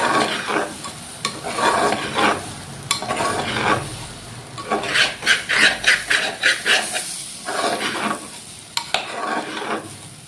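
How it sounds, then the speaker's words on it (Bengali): Mutton for biryani being stirred and fried in a pan, with a continuous sizzle broken by repeated scraping strokes of the spoon, some rhythmic and quick, close and fairly loud with no talking. "দিয়ে নাড়াচাড়া করে নিন মটনটা বিরিয়ানিতে"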